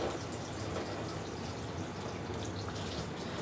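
Filtered water pours from a tap into a glass of ice in a kitchen, making a steady, close splashing and trickling rush that continues without a break.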